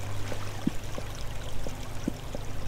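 Running water in the blocky sandbox game Minetest makes a continuous rushing, trickling wash, with a few brief splashy blips scattered across it.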